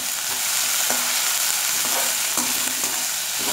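Capsicum and onion frying with cumin in a hot pan, a steady loud sizzle with occasional stirring scrapes throughout, no voices.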